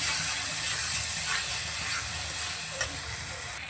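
Prawn masala with mustard paste being stirred in a pan, a steady sizzle under scraping and ratcheting spoon strokes, close and continuous with no talk.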